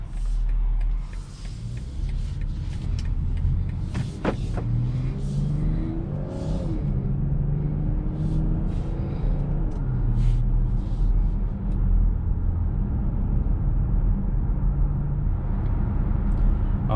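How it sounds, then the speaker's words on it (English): Cabin sound from inside a 2022 BMW X5 SUV on a drive. A low steady road and engine rumble runs throughout, with smooth engine tones rising and falling as it accelerates and shifts, and a few faint clicks inside the cabin. "driving this 2022 BMW X5 drives nice and smooth"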